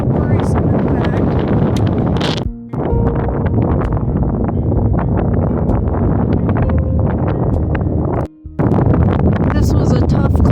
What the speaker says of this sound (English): This was a tough climb, especially with the wind blowing me sideways.